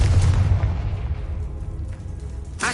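A Confringo blasting spell in Hogwarts Legacy explodes with a loud, deep boom that rumbles and fades, then a second burst cuts in at the end.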